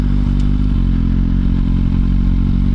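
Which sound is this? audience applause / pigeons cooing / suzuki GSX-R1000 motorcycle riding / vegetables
suzuki GSX-R1000 motorcycle riding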